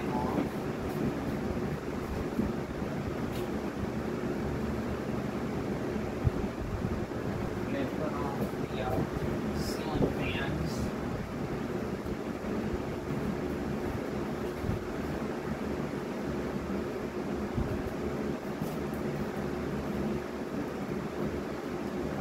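Several vintage box fans run together at home, making a steady, unbroken broadband whoosh of moving air that holds at an even level throughout.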